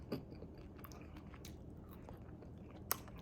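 Quiet, close-up chewing of pan-fried herring with soft crunchy bites and a sharper crunch near the end, no talking.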